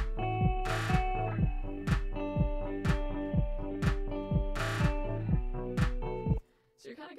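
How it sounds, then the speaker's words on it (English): An emo-indie guitar part plays with drums and bass in a remix: punchy kick and sharp snare hits keep a steady beat under chiming guitar chords and bass, ending abruptly after about six seconds. "So the guitar with the drums and the bass sounds like this."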